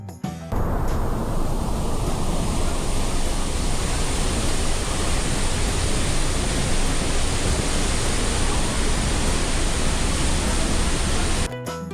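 Water streams pour down from mountains covered in dense vegetation, a steady, loud, broadband rush of falling water that holds unbroken and with no voices.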